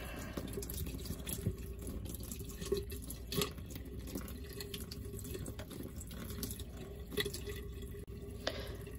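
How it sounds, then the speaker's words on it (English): Hot water runs steadily from a tap to rinse dip-dyed acrylic yarn, a constant splashing hiss in a sink with a few louder spatters and drips throughout. "let me get some hot water going"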